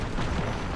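A Bangalore missile strike in the Apex Legends video game lands as a loud, close, booming explosion that fills the whole brief moment.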